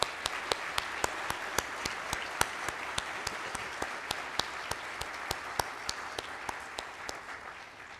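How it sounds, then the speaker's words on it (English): An audience at a conference general session applauds, a soft, steady bed of clapping from the crowd with sharp, regular claps from one nearby pair of hands standing out rhythmically above it. "Let's give them a round of applause."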